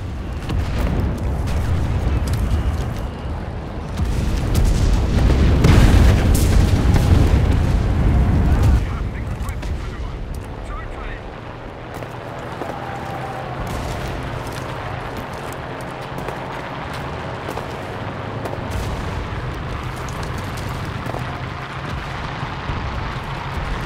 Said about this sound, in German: l'artillerie.